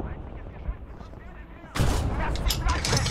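Gunfire and artillery in the World War II strategy game Call to Arms: Gates of Hell, muffled rumbling shots giving way to a sudden loud, dense burst of crackling gunfire and explosions close by.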